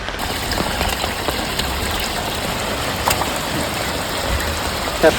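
Water drains steadily from a fish pond where large fish died overnight, a continuous broadband rushing and splashing that stays near and fairly even throughout, with a few faint knocks.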